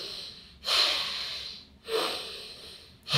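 Three strong breaths drawn and pushed through one nostril while the other is held shut, each a close, airy, snorting rush about a second apart with short pauses between.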